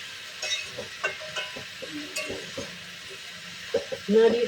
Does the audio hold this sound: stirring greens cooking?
yes